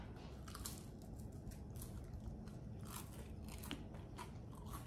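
Crunchy bites into a crispy homemade Belgian waffle, crisp on the outside and fluffy inside, made in a Breville Smart Waffle Pro; close, repeated crackling chews with no talk.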